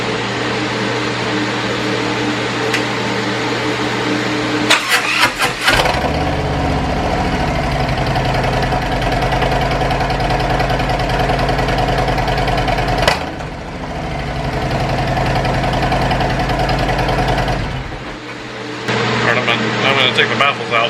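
A Harley-Davidson Road Glide motorcycle engine idles loudly and steadily with its baffles in, with revving surges partway through and a low rumbling throb throughout.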